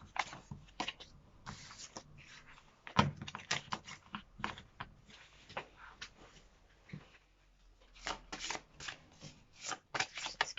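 Large, thick oracle cards being shuffled by hand in repeated bursts of papery riffling and slapping, close and fairly quiet, with brief pauses and one louder knock partway through.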